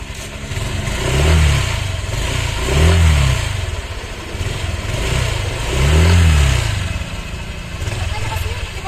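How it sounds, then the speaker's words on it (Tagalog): A Honda Click scooter engine idles with a low, steady rumble while warming up in the morning, repeatedly swelling into brief revs about every one to two seconds. "Inainit ko muna yung makina mga 5 minutes."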